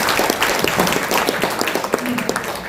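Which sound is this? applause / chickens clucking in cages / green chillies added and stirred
applause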